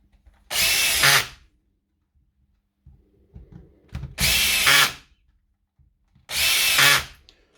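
A power screwdriver drives screws into the housing of a Dewalt DCH273 rotary hammer in three short, loud whirring bursts. Quiet gaps with faint handling clicks separate the bursts.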